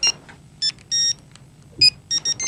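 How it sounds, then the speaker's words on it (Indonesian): A mobile phone plays its SMS text message notification, a series of short bright electronic beeps in uneven bursts, clear and close with quiet background. "SMS-nya masuk nih."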